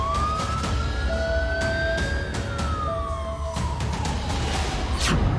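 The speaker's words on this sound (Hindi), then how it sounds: "होनोलुलु में सायरन बजाए गए" A wailing tsunami-warning siren in Honolulu, Hawaii rises and falls over heavy traffic rumble, joined by a second steady siren tone, loud and continuous throughout.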